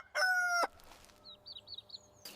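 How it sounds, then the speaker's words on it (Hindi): A rooster crows once, loud and close, in a village courtyard in India, followed by faint bird chirps and quiet yard noise before another brief burst of sound. "मुर्गे की आवाज़"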